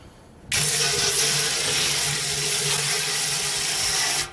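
Tap water runs steadily into a BrewZilla Gen4 brewing vessel during rinsing, a loud, constant broadband rush that starts abruptly and stops near the end, with a low motor-like hum underneath.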